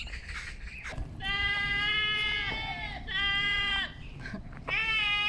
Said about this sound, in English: We heard somebody calling and it's a sheep. The group of sheep calling.